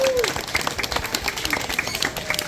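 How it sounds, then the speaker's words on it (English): A zoo audience claps in a brief round of applause after a bird free-flight demonstration, the scattered clapping running steadily under background crowd noise and a passing voice. "You can give him a round of applause."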